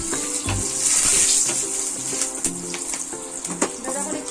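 Chopped garlic and a slit green chili frying in a home kitchen pan make a moderate sizzle with scattered crackles and light clinks, while a voice is faintly present underneath.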